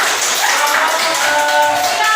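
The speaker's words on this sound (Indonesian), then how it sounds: "Tepuk tangan untuk" A school class claps hands together in a classroom, a bright busy patter of many hands filling the space at close range, with faint tonal murmurs of voices threading through the clapping.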